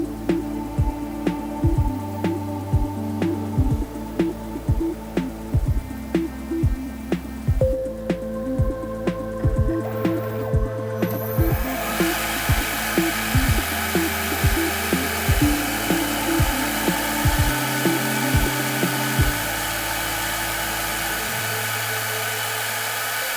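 A CNC machine runs under control of a Raspberry Pi touchscreen with gSender, giving a steady mechanical drone broken by regular, rhythmic stepping pulses; a broadband whoosh like a spindle or dust extraction joins partway through and continues alone, with no talk.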